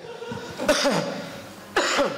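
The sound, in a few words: cough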